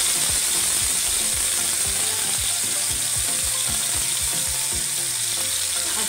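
Marinated mushrooms drop into hot oil and fry with a loud, continuous hiss and sizzle up close, underlaid by a rapid ticking, rattling pattern from the pan.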